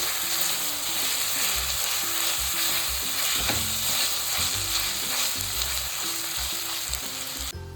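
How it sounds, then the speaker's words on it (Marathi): A small, medium-sized tomato cooks with ginger and garlic in a pan, giving a loud, dense, unbroken sizzle with soft rhythmic stirring scrapes throughout and no talking. "आता ह्यातच मीडियम आकाराचा 1 छोटा टोमॅटो, तो सुद्धा परतून घेऊया आपण।"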